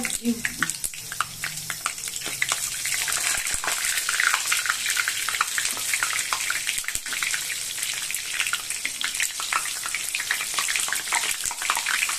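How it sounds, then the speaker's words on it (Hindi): Pumpkin flower fritters deep-fry in hot oil with a dense, continuous bubbling sizzle full of crackling pops, close and loud throughout, with faint speech briefly underneath. "जब तक रेड नहीं हो जाता इसको फ्राई करना है"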